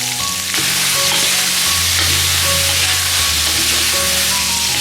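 Loud steady sizzling of spices, scallion, ginger, Sichuan peppercorns, star anise and bay leaves frying with beef and soy sauce in a pot, continuous close sizzle with no voices.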